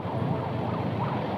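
An ambulance siren wails through congested road traffic with a motorcycle escort nearby, its rising and falling sweeps steady and fairly loud over a dense rumble of engines.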